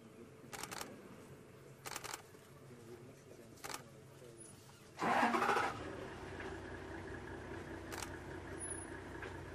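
A car engine starts during an evening safari drive: scattered faint knocks and clicks lead to a loud, brief cranking burst, then a steady, quieter engine idle carries on.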